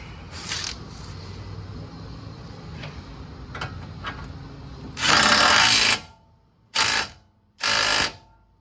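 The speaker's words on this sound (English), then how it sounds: "Grab the impact gun. That's a 17 millimeter." Impact gun on a 17 mm bolt of a lower control arm on a 2005 Mustang 4.0 with a broken ball joint: one long loud rattling burst, then two shorter bursts close together, with light clinks before them.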